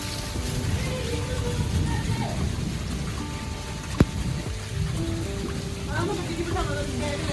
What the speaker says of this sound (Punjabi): ਅੱਜ ਭਾਰੇ ਭਾਰੀ ਯਾਨੀ ਕਿ ਬਰਸਾਤ ਹੋਣ ਹੀ ਆ